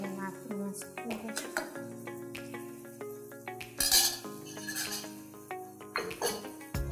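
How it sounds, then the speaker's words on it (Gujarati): Mashed boiled potatoes and peas for pav bhaji are stirred in a pan, with soft scraping and repeated metal utensil clinks and taps, fairly quiet and close, with no clear talking. "હવે આપણે આને હલાવી દઈશું સરખી રીતે."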